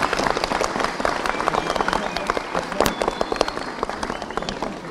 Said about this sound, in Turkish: Kendinize şöyle bir alkışlayın.